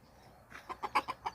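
Chickens clucking in a farmyard, a rapid series of about five short, sharp calls coming close together after a brief quiet start, fairly near and clear.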